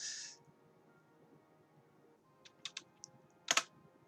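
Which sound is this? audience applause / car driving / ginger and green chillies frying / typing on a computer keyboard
typing on a computer keyboard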